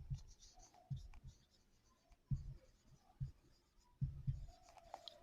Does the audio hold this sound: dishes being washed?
no